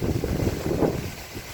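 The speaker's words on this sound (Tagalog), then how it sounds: "hangin pa lang yan, walang ulan" Gusty wind blows outdoors in a tree-filled area during unpredictable rainy-season weather, a rough rumbling buffet against the microphone that eases off toward the end.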